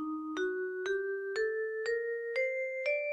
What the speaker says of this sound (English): The Phrygian dominant scale, however, raises the 3rd scale degree so that it sounds like this.